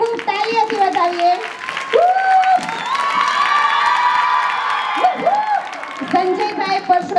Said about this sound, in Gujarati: પહેલા ખૂબ ખૂબ તાળીઓથી વધાવીએ